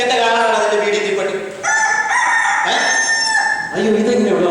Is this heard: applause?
no